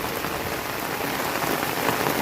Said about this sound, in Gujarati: ફૂલ મોજમાં વરસાદની છે ભાઈ